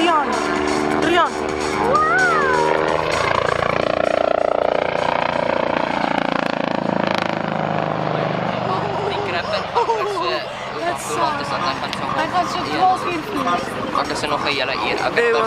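A BK-117 helicopter flies a display at a museum airshow, its loud engine and rotor noise rising and falling over steady crowd chatter and people talking nearby.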